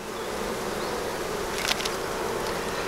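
Buckfast honey bees buzz steadily at an open hive during a spring inspection, a dense, even, close hum with no talk over it.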